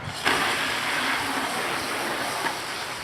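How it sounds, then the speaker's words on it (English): Water pours steadily into a bucket with a little dishwashing liquid to wash a bicycle, a continuous rushing splash that stays close and even for a few seconds, with no talking. "Fill up the bucket probably about a quarter of the way. Nice and sudsy."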